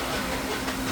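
Disneyland Railroad train rolling along its tracks, a steady dense rumble and hiss heard from on board, continuous and fairly loud for a brief moment.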